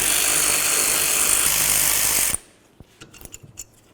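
A ratchet spins off the caliper slider mounting bolts on a 2008-17 Buick Enclave's rear brakes, a loud continuous rapid clicking that stops abruptly partway, followed by a few faint metallic taps and handling clatter.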